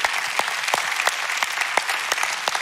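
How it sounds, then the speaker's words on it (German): Church congregation applause, a steady stream of many hands clapping with distinct sharper claps standing out, sustained evenly for a few seconds. "Lass uns diesem Kettensprengen Gott einen Applaus geben."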